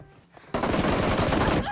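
A single loud, rapid burst of automatic gunfire in a first-person shooter video game, lasting about a second, sharply starting and stopping over faint background game sound.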